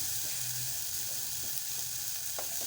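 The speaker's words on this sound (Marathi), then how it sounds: "आता मी कांदा घालत आहे" Onion frying in a ginger, garlic, curry leaf and coriander paste for bread patties, a steady soft sizzle throughout with a few faint spoon scrapes, close and even.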